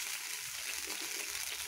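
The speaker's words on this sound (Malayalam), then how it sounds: "എണ്ണ നല്ലതുപോലെ തേച്ച് കൊടുക്കുക. അല്പം വെള്ളം തൂവിക്കൊടുക്കുക." Water sprinkled onto a hot, oiled dosa griddle sizzles in a steady, bright, crackling hiss close by, holding at an even level throughout without talk.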